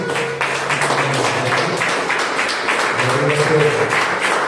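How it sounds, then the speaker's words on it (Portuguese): A church congregation claps during a Lord's Supper service, a dense, steady patter of many hands throughout with low voices or singing underneath. "Primeiro aplaudo do Senhor, né?"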